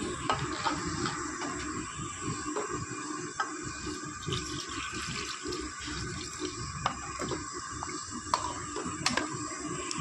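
Water pouring and splashing steadily into a cooking pot for a fish curry, a continuous close rushing flow with light clatter of the vessel, no talking.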